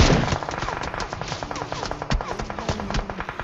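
Gunfire from a mobile shooting video game comes in rapid bursts of sharp shots with short gaps between them, moderately loud and clipped, with occasional footstep-like taps underneath and no speech.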